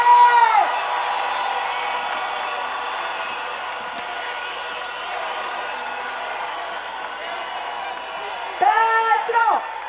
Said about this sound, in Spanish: aplauso, aplauso muy fuerte a nuestro presidente.